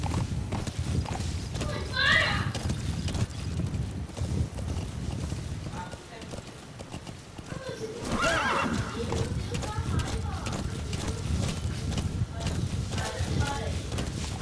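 A horse in Metal Gear Solid V clip-clops steadily through a long stretch and whinnies twice, with a constant game background bed under it and a brief lull midway.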